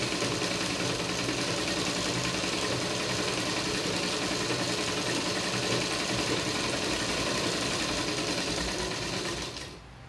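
Sewing machine stitching the neckline seams of a V-neck blouse, a steady close-up mechanical whir running loud and unbroken for about nine and a half seconds before cutting off abruptly near the end.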